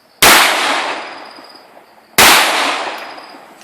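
Two loud, close blasts from a Hatsan PS 22 semi-automatic shotgun firing 00 buckshot and slugs, spaced about two seconds apart, each followed by a long decaying echo.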